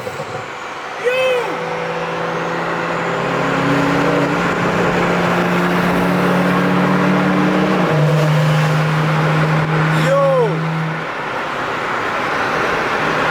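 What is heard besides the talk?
car with open dumps, exhaust shooting flames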